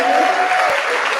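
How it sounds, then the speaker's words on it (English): Applause from an audience at a film festival opening ceremony, a dense continuous wash of clapping filling the whole short moment, loud and close. "Can we give applause to sir?"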